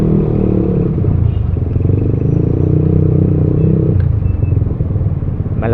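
Steady low rumble of a motorcycle with an open muffler idling and creeping in city traffic, loud and close throughout with faint clatter and a brief knock near the end.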